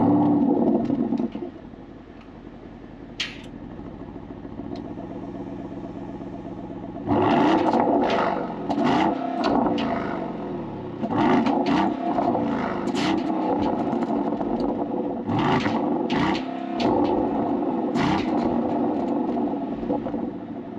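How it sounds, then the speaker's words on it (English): A 2024 Porsche Cayenne S Coupe V8 with sport exhaust idles, then fires into a loud rumble with several sharp revs and blips, settling back to a steady burbling idle between bursts, heard up close. "Let's go ahead and fire it up. You can hear what that engine sounds like real quick."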